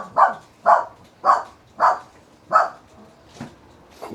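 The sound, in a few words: dog barking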